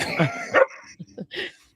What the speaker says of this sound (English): You gotta kick the dog out.